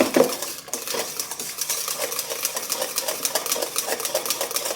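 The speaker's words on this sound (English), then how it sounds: "It's back to whisking." A whisk beating Cool Whip in a bowl, giving a steady run of fast metallic clicks and scrapes against the bowl that lasts the whole stretch, with no talking.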